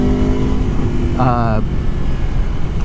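An Aprilia Tuono motorcycle pulls out of a corner after light braking, its engine note rising briefly over heavy wind rush from a moving ride, with a voice talking throughout.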